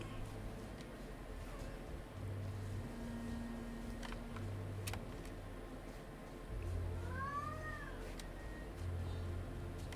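A house cat meowing near the microphone while someone plays Valheim: a few drawn-out, rising-and-falling meows, fairly faint, over low hum and quiet game sounds.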